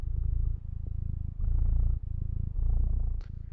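A NeosVR avatar purrs in a steady rhythmic rumble, loud and close, with repeated breath-like cycles and no talk.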